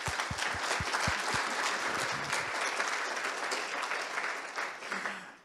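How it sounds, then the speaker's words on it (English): An audience at a closing address of a retreat applauds its AV team, a full, steady round of clapping with a few heavier low thumps early on, then gradually tapering off toward the end. "Round of applause."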